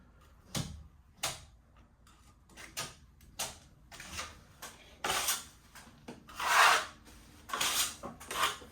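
Plaster being scraped along a wall corner bead with a trowel, giving short rasping strokes and scrapes spaced irregularly, some quick and sharp, others longer and louder, close by and quiet.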